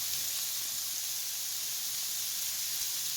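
Meatballs frying gently in a pan, a steady soft sizzle and hiss that holds evenly throughout with no voices over it.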